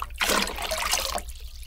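In the Prison Princess video game, a ball drops into water with a short splash and bubbling trickle lasting about a second, then a quiet hum remains.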